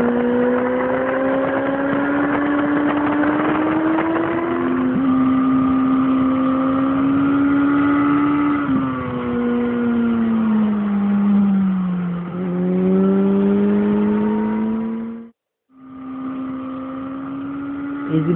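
Racing motorcycle engine howling through corners and chicanes, loud and close, pitch climbing and dropping with throttle and downshifts, briefly cutting out near the end before resuming.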